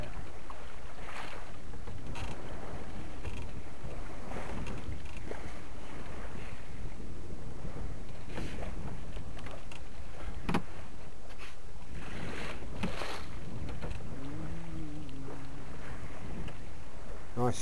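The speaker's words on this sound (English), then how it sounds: "all you hear is the waves, can it, lapping against the lovely, boat" Steady sloshing and splashing of waves against a sailing boat at sea, a continuous loud wash with wind rumble and occasional knocks, plus a brief tonal whine near the end.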